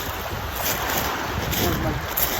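Strong wind blusters across the microphone in a steady roar, with a faint wash of water in the background, at Mag-asawang Bato in Sitio Sulok, General Luna, Quezon province, Philippines.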